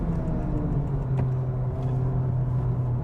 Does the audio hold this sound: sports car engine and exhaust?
yes